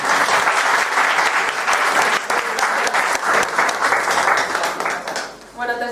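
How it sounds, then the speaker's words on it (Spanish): A conference audience applauds loudly and steadily for several seconds before the clapping tapers off and a voice starts. "Un aplauso para Elisa."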